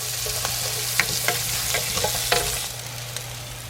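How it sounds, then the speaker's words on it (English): One whole chopped onion sautes in a hot pan, a steady soft sizzle with the occasional scrape and clink of stirring, close and alone without talk. "I've got 1 whole onion chopped up. Let's saute that up a bit"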